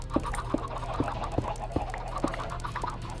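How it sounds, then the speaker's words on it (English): Chickens clucking in a video game: a rhythmic series of short, evenly spaced clucks over a constant low background hum, fairly faint. "I hear the chickens."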